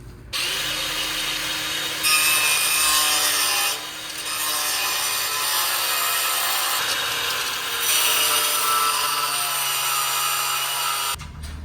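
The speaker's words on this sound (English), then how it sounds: "This is our first time ever using this circular cutoff saw from Harbor Freight." A Harbor Freight circular cutoff saw cuts through metal for a Ford Bronco IAG side-step job, giving a steady, loud, close-up whine and grinding rasp that runs for nearly the whole stretch, with slight surges in pitch and no talking.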